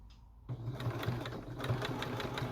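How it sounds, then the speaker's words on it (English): Sewing machine running steadily while it stitches along the edge of a child's or adult's apron, a close, even mechanical whir with a rapid regular needle rhythm after a brief quiet start. "I'm just sewing the edge."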